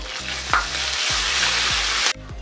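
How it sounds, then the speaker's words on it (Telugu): Steady loud sizzling of tempering spices, chana dal, dried red chillies, asafoetida and curry leaves frying in hot oil, with a spoon scraping and stirring the pan several times, until the sizzle cuts off abruptly near the end. "పోపు బాగా వేగాలండి, లేకపోతే మెత్తగా ఉంటాయి దినుసులు."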